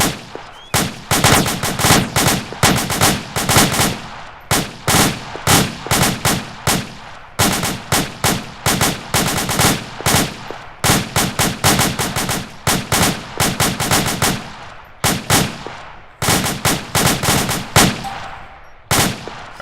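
Rapid bursts of automatic gunfire in a military exercise, loud and close, firing in repeated clusters of shots with brief pauses between volleys.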